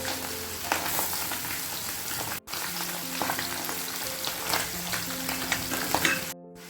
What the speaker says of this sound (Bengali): ছোটো মাছটা ভাজা হবে, যে মাছগুলো দিয়ে দিচ্ছে।